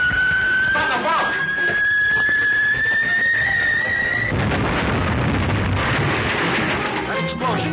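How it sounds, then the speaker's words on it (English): Explosion effect from a 1941 film serial: after a sustained whistling tone, a loud broad rumbling boom erupts and rolls on for several seconds, with voices talking around it. "That explosion was directly north of here."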